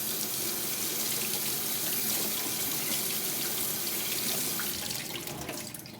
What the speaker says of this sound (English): then I rinse it under the tap